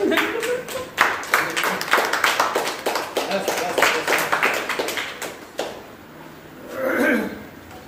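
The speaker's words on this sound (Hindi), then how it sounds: "ताली लगाओ इन बच्चों के लिए" An audience at an inauguration event for a children's education foundation claps for the children, a dense run of hand claps that fades out after several seconds while voices talk over and after it.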